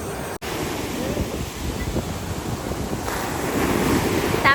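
Wind buffets the microphone over the rush of surf breaking on a beach in Chennai, a continuous loud roar that swells slightly toward the end.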